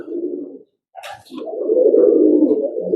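Pigeons of a flying breed coo softly and steadily at a pigeon club in Xırdalan, a low, rolling, close-by coo with a brief gap and a faint chirp in between, with no talk.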